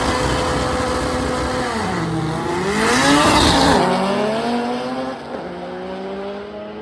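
All-wheel-drive Honda Civic on a quarter-mile drag strip pass, engine screaming through rising gear pulls with brief drops at the shifts, loud and close, then fading as the car heads downtrack.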